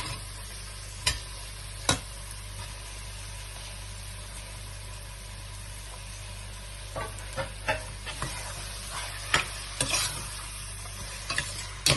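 Prawns stirred with ginger garlic paste in a pan for prawn biryani, a low steady sizzle with intermittent scraping clicks of a spoon against the pan, close up and without talk.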